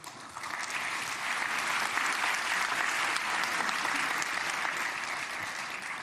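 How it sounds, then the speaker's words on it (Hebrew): A full parliament plenum bursts into sustained applause, a dense, even roar of many hands clapping that swells quickly and holds steady for several seconds. "ניתן יהיה למחוא כפיים בישיבה זו"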